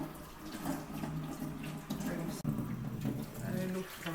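Cold tap water runs steadily into a sink for washing, a continuous broadband splashing rush close by that holds for the whole stretch with one brief break.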